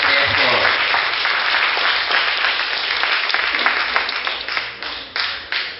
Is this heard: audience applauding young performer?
yes